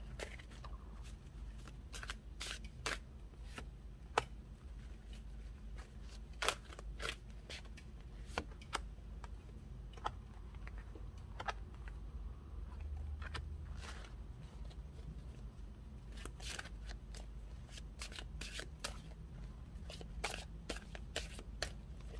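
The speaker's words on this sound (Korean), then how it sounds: "여러분들의 11월 달의 연애운에 대한 카드를 조금 뽑아보도록 할게요" Tarot cards being shuffled and handled softly, with faint, irregular papery flicks and taps over a low, steady background hum, quiet and close.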